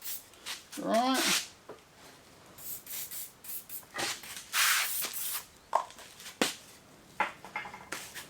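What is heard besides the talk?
spraying onto tube bender before bending galvanised pipe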